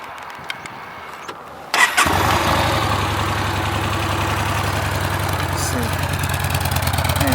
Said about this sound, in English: Engine exhaust note, sounds reasonable, but could do with a decent exhaust on it.